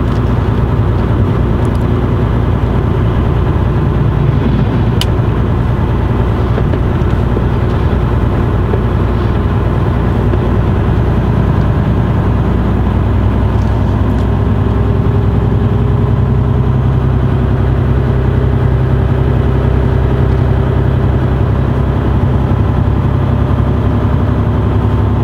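Truck cab interior on the road toward the B11, a steady loud low engine drone and rolling road rumble that holds constant throughout, no voices.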